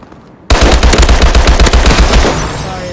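Rapid automatic gunfire in the Call of Duty Advanced Warfare multiplayer game bursts in suddenly after a quiet half second, a loud, dense stream of shots that rattles on without pause to the end.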